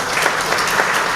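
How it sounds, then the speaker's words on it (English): Conference audience applause for a healthcare sponsor: many hands clapping in a steady, dense wash at moderate loudness, with no voices over it. "Round of applause for them."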